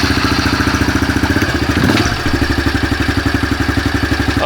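A freshly built pit bike engine idles with a steady, loud, fast-pulsing putter and a brief clattering rev-up midway before settling back to idle.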